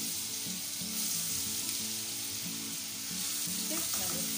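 Ginger garlic paste frying in a pan with cardamom and bay leaves makes a steady close sizzle, with stirring scrapes near the end and no talking.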